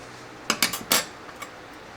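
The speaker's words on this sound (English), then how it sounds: "you're going to need a set of hemostats" A few quick metallic clinks and clatters of steel hemostats being picked up and set down, close by in a quiet room.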